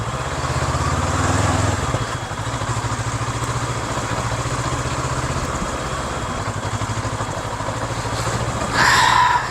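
A big, wide motorbike with panniers rides through Hanoi: a steady engine drone mixed with rushing wind noise runs throughout, swelling briefly near the end.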